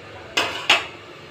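A pot of lentils with hog plums lifted off the stove makes two sharp metallic clanks in quick succession, close and fairly loud, against quiet room noise.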